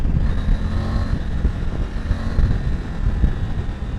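A Triumph Tiger 900 Rally Pro motorcycle engine pulls hard on a highway ride, a loud steady low rumble mixed with heavy wind buffeting across the whole stretch, no talking.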